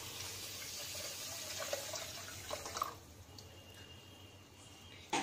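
Water poured from a cup into a pot holding three cups of sugar to make sugar syrup for gulab jamun: a steady splashing pour for about three seconds, then a quiet room with a few faint drips.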